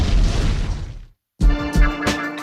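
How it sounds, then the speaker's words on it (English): A booming explosion sound effect with a heavy low-end blast that decays, a brief silence, then a second burst with crashing debris-like hits, loud and close. "Chris, do another explosion right here."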